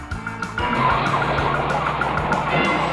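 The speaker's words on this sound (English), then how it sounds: "Racer X crashes his car so he won't leave Speed behind" A cartoon race car engine roars steadily with a gritty, tire-scraping texture as the car skids and crashes, loud and close, with no clear impact standing out.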